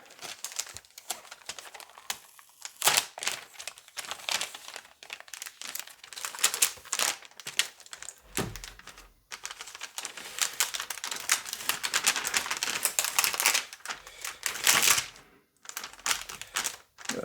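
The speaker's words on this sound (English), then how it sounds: "Got a fair bit of packaging to get through." Packaging of an Acer Predator Triton 300 laptop being unwrapped: bursts of crinkling plastic, tearing and rustling cardboard, close and fairly loud, irregular with short pauses, no talk.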